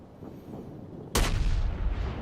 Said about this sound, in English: he's going to catch that Texas flat-footed with his second volley, too.